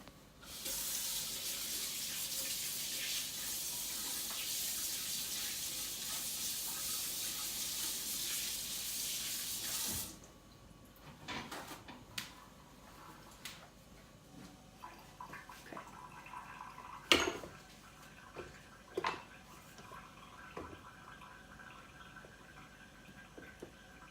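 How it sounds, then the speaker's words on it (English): A kitchen tap runs steadily while hands are washed under it for about ten seconds, then the water stops, leaving soft clatters and handling noises nearby. "So first I'm gonna wash my hands so that it doesn't get all over me."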